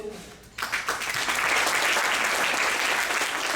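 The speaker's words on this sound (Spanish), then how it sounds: "Quisiera que recibieran un aplauso." After a quiet half second, an audience at a conference talk on traditional and modern biotechnology breaks into sudden, dense applause that holds steady to the end.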